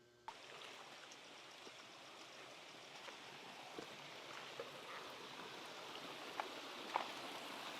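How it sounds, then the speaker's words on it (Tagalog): Strong current of water rushing at a waterfall in the province, a steady broad roar with scattered splashes and drips, heard alone without voices. "sobrang lakas ng agos ng tubig"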